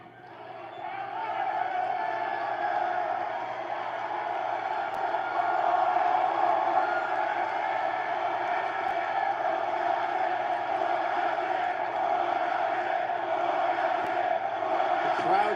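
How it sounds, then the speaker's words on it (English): Wrestling crowd at an AEW Rampage event chanting in a large arena, a steady, dense roar of many voices held at an even level throughout, heard from a distance as broadcast sound. "Crowd chanting Hookhausen already."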